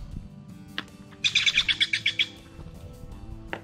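Outdoors during a live cornhole interview, a bird gives a quick series of about ten sharp, high chirps in a rhythmic burst, fairly close and clear above low background noise.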